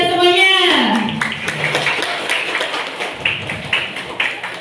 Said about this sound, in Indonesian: Tepuk tangannya untuk kita semuanya.